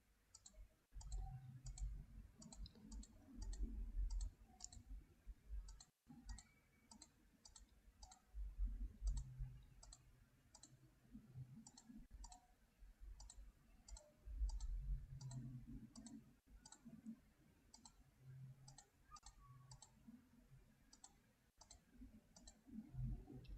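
A computer mouse clicks over and over while colors are filled in on screen, giving sharp little clicks in quick pairs and bursts, close and faint, over a low rumbling background.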